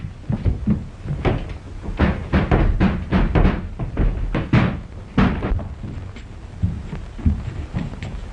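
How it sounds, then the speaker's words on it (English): A door is forced and broken in on a 1933 radio-drama soundtrack, heard as a rapid run of loud, heavy thuds and cracking blows, then scattered weaker knocks as it gives way. "Open this door, I'll break it in!"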